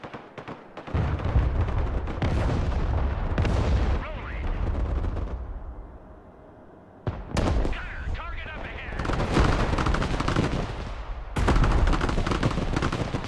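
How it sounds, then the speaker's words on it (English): Artillery firing in the real-time war video game Broken Arrow: heavy booming blasts with long rumbling tails, several loud shots spread across the stretch with a brief quieter gap midway, voices talking faintly underneath. "His artillery firing."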